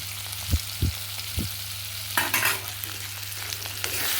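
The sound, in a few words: chicken frying with green chili paste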